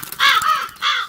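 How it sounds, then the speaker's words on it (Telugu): Crows caw nearby, two loud harsh calls in quick succession, with nothing else heard. "కాకులు"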